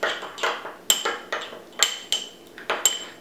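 A spoon clinks against a bowl while stirring a lime marinade, making a steady run of light metallic taps and scrapes, about one every half second, close and clear.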